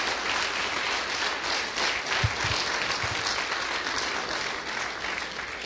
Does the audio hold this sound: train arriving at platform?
no